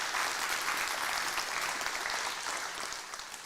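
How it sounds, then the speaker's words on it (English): An audience at a live tech unveiling event gives a steady round of applause, dense clapping from a crowd filling the room and tapering slightly toward the end, with no talk over it. "So just a round of applause for you guys."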